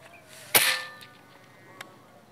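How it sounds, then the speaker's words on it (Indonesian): A single sharp, loud crack of a Predator Black Army Tactical PCP air rifle shot, followed by a short metallic ring and a faint distant tick a moment later. "oke nah kita coba untuk tembakan pertama"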